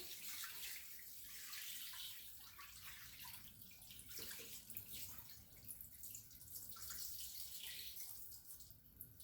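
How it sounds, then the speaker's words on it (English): Green pandan-tinted soaking water pours and splashes steadily into a basin, a continuous rushing wash of sound with no talking. "Then I'm going to pour out the green water here."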